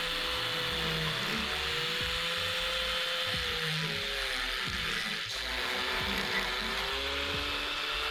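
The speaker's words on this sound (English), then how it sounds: "having to get the Dremel out and grind a bit of that paint off on the inside" A Dremel grinding powder-coated paint off the inside of a motorcycle swingarm hole on a Honda CB500: a steady, loud high-pitched whine that holds throughout, with its pitch wavering slightly as the tool bears on the metal.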